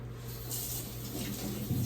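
Sweet potatoes rinsed under a running tap make a steady splashing rush of water, close and moderately loud, with a slight shift in the spray near the end.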